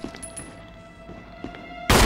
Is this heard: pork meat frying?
no